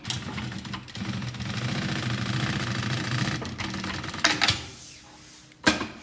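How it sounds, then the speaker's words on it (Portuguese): A sewing machine runs close by, stitching the side seam of a bag with a fast steady mechanical whir for several seconds, then stops, followed by a few short bursts and clunks. "E aí eu faço uma costura na lateral."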